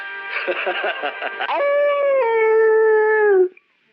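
A cartoon character's voice imitates a dog, giving a run of short yips and barks before stretching into a long, drawn-out howl that falls away at the end.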